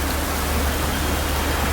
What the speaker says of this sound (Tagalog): Jeddah with heavy rain.